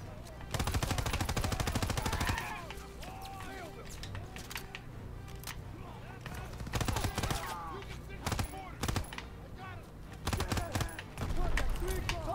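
Rapid bursts of automatic and single-shot gunfire in a Call of Duty: WWII battle at a stronghold, loud and dense through most of the stretch, with sharp cracks and volleys layered over game ambience and music.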